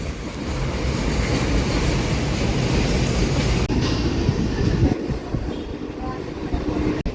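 MEMU train pulling out of platform 4 at Anantapur station: a dense, loud rumble and rattle from inside the carriage with faint wheel clatter, easing off slightly toward the end.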